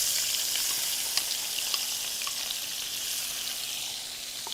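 Sliced onion sizzles in reused oil in a pan while a Bangladeshi pan-fried pomfret dish is being cooked. The hiss is steady and close, with a few sharp crackling pops, and nobody talks over it.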